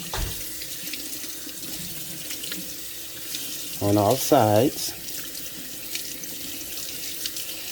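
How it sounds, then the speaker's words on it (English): Corned beef being rinsed under cool running tap water in a kitchen sink, a steady close water stream throughout with a louder splashing burst in the middle and brief speech. "So just rinse it under cool water"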